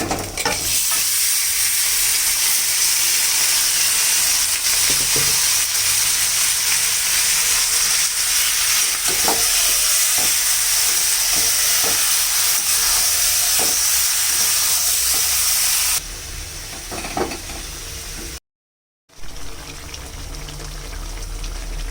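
Marinated chicken with onions frying in a pan while being stirred, a loud continuous sizzle with scraping stirs and clinks for most of the time, then a brief quieter stretch and a short gap before frying resumes.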